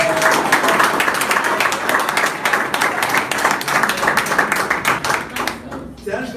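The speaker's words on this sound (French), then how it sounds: "On applaudit pour lui" A seminar audience breaks into sustained, dense applause, many hands clapping loudly and continuously before thinning out near the end, with some voices mixed in.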